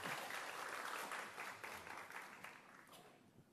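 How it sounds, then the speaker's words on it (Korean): A church congregation applauds to welcome a speaker giving a testimony: a brief wash of dense clapping, soft and somewhat distant, fading away over a few seconds. "박수로 먼저 맞이해 주세요"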